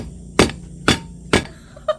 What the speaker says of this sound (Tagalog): Martilyo. Pangpukpok sa sipit.